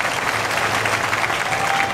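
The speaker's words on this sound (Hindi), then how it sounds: "एक बार तालियां बजा के प्रधानमंत्री जी का अभिनंदन कीजिए" A political rally crowd in India claps together to welcome the Prime Minister, a dense, loud wash of applause holding steady throughout without pause.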